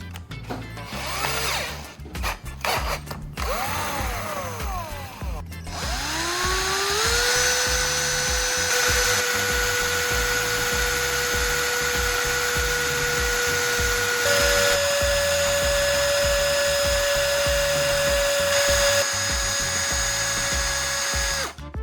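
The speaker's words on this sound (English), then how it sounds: "Now, I'm going to attach it to a drill and start mixing everything thoroughly." An electric drill with a mixing attachment starts in short bursts, then runs at a steady high whine for a long stretch, its pitch shifting slightly as it mixes.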